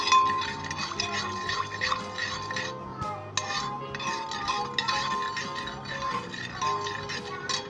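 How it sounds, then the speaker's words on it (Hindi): A small spoon mixes sugar into custard mixture in a bowl, giving rapid, rhythmic metallic clinks and scrapes that run continuously with a brief pause partway through. "चलो दोस्तों इसे अच्छे तरीके से मिक्स कर लें।"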